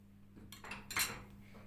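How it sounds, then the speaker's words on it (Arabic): A utensil scrapes and clinks against a pot as dissolved gelatin is stirred into qamar al-din apricot mixture, several quick swishing strokes building to a brighter scrape, close up over a low steady hum. "هنقلب الجيلاتين بقى بسرعه كده"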